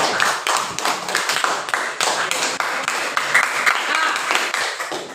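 A classroom of students claps their hands together, a loose run of sharp, close claps with a roughly steady beat and brief gaps, a few voices faintly underneath.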